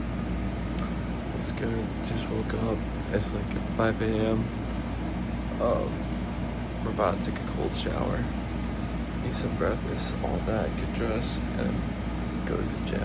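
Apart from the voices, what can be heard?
portable air conditioning unit running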